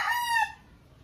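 A chicken lets out a single short, bright cluck-like call that cuts off quickly, leaving faint low background noise behind it.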